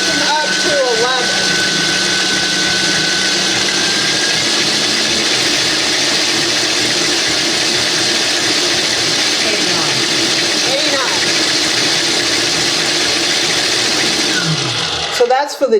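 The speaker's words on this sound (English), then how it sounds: "So that's for the GE profile stand mixer." A GE Profile stand mixer with no attachments runs at top speed, giving a loud, steady motor whine and hum that holds constant for the whole stretch before cutting off at the end.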